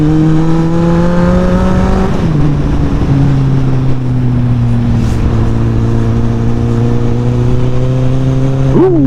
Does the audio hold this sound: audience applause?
no